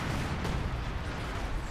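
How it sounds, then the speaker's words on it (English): A light artillery barrage in the video game Company of Heroes 2 brings dense, rumbling booms and crackling blasts that overlap into a continuous low roar. "Come on, light artillery barrage."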